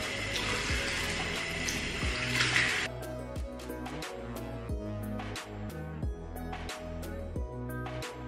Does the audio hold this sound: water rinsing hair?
yes